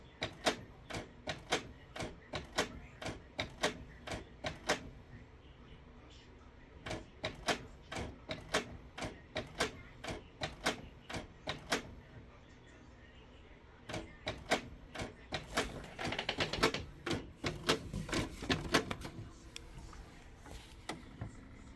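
A Canon TS3322 inkjet printer runs through a print job, giving a long series of sharp, regular mechanical clicks and clacks close by, with busier whirring and feeding near the end.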